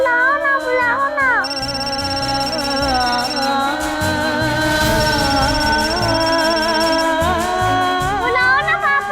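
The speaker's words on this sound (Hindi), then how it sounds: "कृष्णा, पापा फोन काहे नहीं उठा रहे?" A phone ringtone plays in a repeating electronic melody for several seconds, loud and close, with a voice briefly audible near the end.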